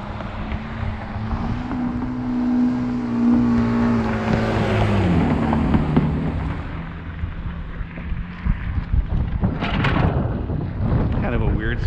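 A passing car with a modified engine and exhaust gives an odd, droning engine note that rises and shifts pitch, mixed with wind buffeting the microphone and heavy rumble; a voice talks over part of it.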